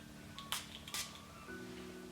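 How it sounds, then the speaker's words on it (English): Two quick hissing sprays from a Dossier fragrance bottle, close and soft against a quiet room hum. "I do wanna go ahead and give it a little spray."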